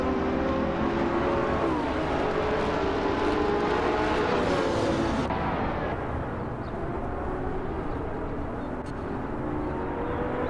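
Ferrari LaFerrari and other supercars racing in a video game, a loud continuous engine roar with shifting pitch as cars rev and pass, dense and close throughout.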